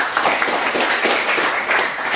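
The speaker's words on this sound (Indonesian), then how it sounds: "Boleh beri tepuk tangan" Classroom applause from students during a mathematics lesson on matrices, a steady patter of clapping lasting about two seconds at moderate level, with no talk over it.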